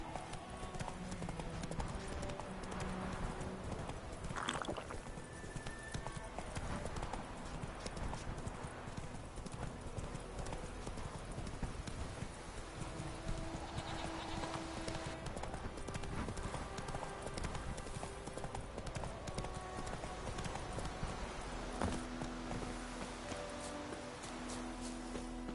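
Horse hooves from Roach in The Witcher 3 clip-clop steadily through the whole stretch, a continuous galloping rhythm with occasional rustling and game ambience, plus faint voices underneath.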